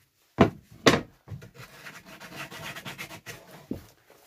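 Hand sanding on a wooden box: two sharp rubbing strokes, then a run of softer, quicker scratchy passes and one last stroke, close and alone.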